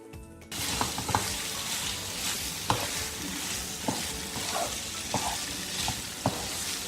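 Prawn pieces sizzle steadily in a hot pan for a prawn curry, with a spoon stirring and scraping through them in repeated close knocks over a continuous frying hiss.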